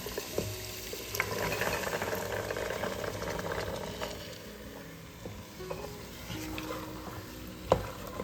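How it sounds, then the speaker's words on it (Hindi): Raw chickpeas being stir-fried in a pot of spice masala over high heat: a continuous close sizzle with repeated spoon scrapes and clinks, moderately quiet and with no speech. "तेज़ आंच में मसाले के साथ हम छोले को 2-3 मिनट भूनेंगे"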